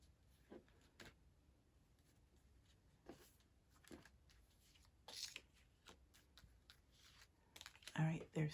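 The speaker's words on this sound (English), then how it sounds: "I'll pull 6 cards." Tarot cards drawn one at a time from a deck during a reading: scattered soft flicks and slides of card stock spread across a quiet room, ending in a louder shuffle-like rustle.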